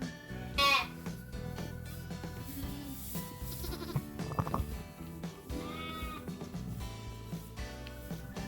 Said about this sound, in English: Here we are, a little lamb.